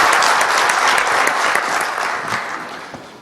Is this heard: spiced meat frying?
no